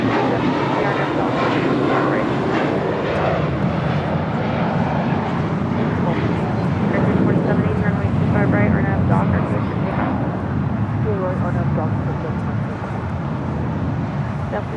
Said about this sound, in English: This is Air Tahiti Nui, Flight 7, coming in from Paris on a 787-9